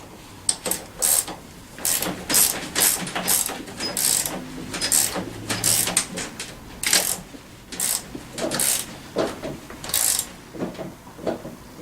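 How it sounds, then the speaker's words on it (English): Socket ratchet with 11/16 and 14mm sockets cranking down a nut while assembling a TaoTao CY150A scooter, a close, rapid clicking of the pawl in repeated bursts with short pauses between strokes. "This is 11/16 and a 14mm ratchet. Go ahead and crank this this thing down some."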